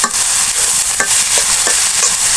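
Pea greens fry in a pan with coriander leaves while a spatula stirs them, giving a loud, close, continuous sizzle broken by repeated scraping strokes and no talking.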